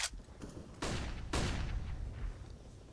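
Rapid bursts of gunfire in CS:GO during an IEM Katowice 2022 esports match, with three distinct sharp shots followed by decaying reverberant tails against a steady background hum.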